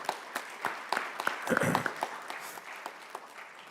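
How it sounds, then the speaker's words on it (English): A short burst of clapping from a small group at an MLK celebration, scattered claps swelling in the middle and then thinning out. "give my board members a round of applause for their hard work"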